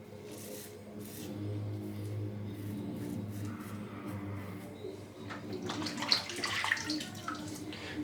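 A Pearl Flexi razor is rinsed under a running tap, with a steady wash of water that swells louder and brighter toward the end, heard up close and alone.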